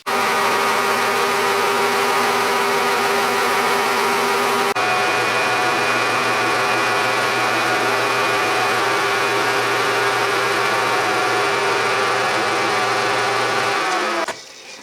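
A milling cutter slowly cuts a slot in a workpiece on a Unimat lathe fitted with a milling table, giving a steady, loud buzzing whine that runs unbroken for about fourteen seconds before it cuts off.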